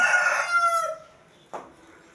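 A rooster crows loudly and nearby in one long, drawn-out call, followed by a brief short cry after a pause.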